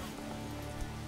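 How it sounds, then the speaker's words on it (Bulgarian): Steady rain falls in the medieval settlement of the video game Manor Lords as a dense, even hiss of droplets on surfaces, continuous and fairly loud, with a low droning undertone. "Да, дъжд заваля."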